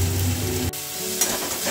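Ginger spice paste sizzling in a pan for a Bengali pabda fish curry, continuous frying hiss with a low hum that drops out briefly, then a spatula scrape.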